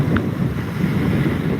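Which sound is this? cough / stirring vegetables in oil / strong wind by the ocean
strong wind by the ocean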